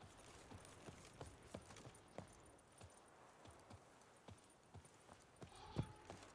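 Horse hooves clop unevenly on a hard surface at a walking pace in a video game, Witcher 3, fairly faint, with a sharper knock near the end.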